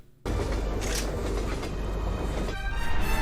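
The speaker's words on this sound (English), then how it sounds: "and there's the train again." Train in the animated film Batman: Gotham Knight rumbles past loudly right after a near-silent start, a dense rolling roar that swells toward the end with no talk over it.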